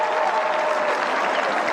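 Stadium crowd at an AFL match between GWS and Gold Coast cheering and applauding a player's first goal, a dense, loud, continuous roar of clapping and shouting throughout.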